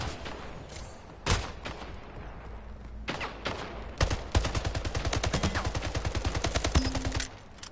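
Splitgate gunfire: a few single shots, then a rapid sustained automatic burst of evenly spaced game shots that runs for several seconds before stopping.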